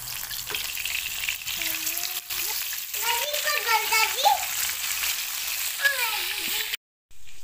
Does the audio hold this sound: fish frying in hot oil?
yes